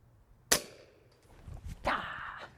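An FX Panthera 700mm .22 air rifle fires a 36-grain ZAN slug outdoors: one sharp, loud crack, followed about a second and a half later by a softer, noisier burst.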